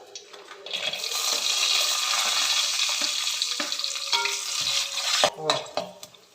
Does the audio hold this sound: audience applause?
no